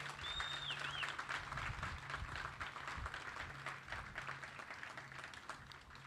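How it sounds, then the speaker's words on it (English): An audience at a military change-of-responsibility ceremony applauds the color guard, a quiet, distant patter of many hands clapping steadily, with a low hum and a brief whistle-like tone in the background. "Let's give them one more round of applause."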